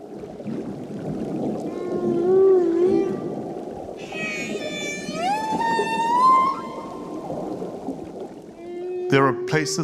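Whale calls in the Pacific Ocean near the Cook Islands: long gliding moans and rising whistles, some with bright harmonic upper tones, repeating over a constant underwater rumble, with a sharper burst of sound near the end.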